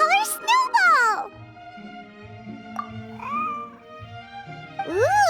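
A cat in the video game Genshin Impact meows loudly and close up at the start and again at the end, with a spoken voice in between.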